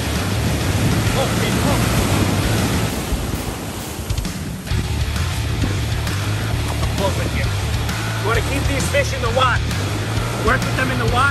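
Ocean surf breaking near a Long Island shore during shark fishing, a loud continuous wash of waves with gusts of wind noise and brief muffled handling sounds.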